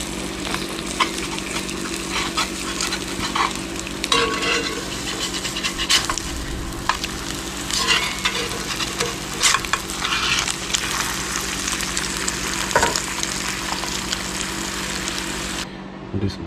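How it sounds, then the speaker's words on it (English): Continuous crackling sizzle of two eggs frying in a pan, with occasional clicks and scrapes of a utensil and a low steady hum beneath. "Lately I've just been frying up 2 eggs and putting it on toast."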